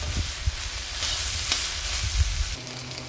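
Pre-boiled minced chicken sizzles steadily in a frying pan, close and even, with a few soft knocks and scrapes of stirring and no talking.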